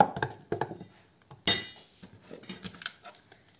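A spoon stirs an egg and porridge mixture in a bowl, giving a few quick close clinks and scrapes in an uneven rhythm, with one sharper knock near the middle.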